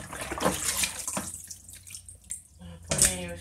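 Tap water runs into a sink while chicken pieces soak for salting before smoking, a steady close rush that fades midway and surges again near the end, with a voice speaking softly over it.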